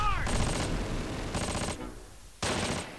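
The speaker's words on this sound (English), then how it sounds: "You're under heavy fire." Heavy gunfire rings out in the Close Combat: Wacht Am Rhein war game. Loud, dense bursts of shooting come in three blocks and pause briefly between them, and no voices are heard.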